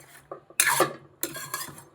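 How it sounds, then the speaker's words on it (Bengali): Small mourola fish being mixed by hand with potatoes and spices in a bowl, heard as two bursts of wet squelching and scraping separated by short pauses, close and fairly loud. "এবার এটাকে মাখিয়ে নেব, পুরো মাছের সাথে আলুর সাথে একসঙ্গে মাখিয়ে"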